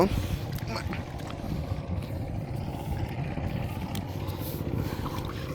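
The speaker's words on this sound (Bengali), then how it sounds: "পাশে আরেকটা জমি চাষ হচ্ছে ওই যে পাওয়ার টিলারের মাধ্যমে" A power tiller ploughs a neighbouring paddy field, its low engine rumble droning steadily at mid distance beneath nearby talking voices.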